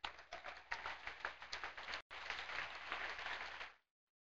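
A church congregation claps as an offering of praise during a sermon, a dense steady applause with a brief break near the middle before cutting off sharply at the end.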